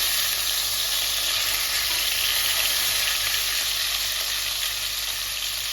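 Tandoori chicken fries in a pan with a dense, loud, constant sizzle and crackle of hot oil that holds steady throughout, with no talk.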